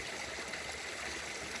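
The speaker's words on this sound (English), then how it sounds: "dramatic part of the stream, which is dishpanned and washed and eroded this limestone over the years" A small stream in Macon County, Tennessee flows over eroded limestone, giving a steady, soft rushing trickle with no voices.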